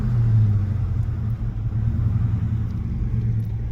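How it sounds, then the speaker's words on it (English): A V8 car engine rumbles steadily while driving, a loud, close, low drone that stays even throughout with no voices over it. "The cool thing about this car, it's got a V8."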